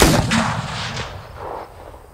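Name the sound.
gunshot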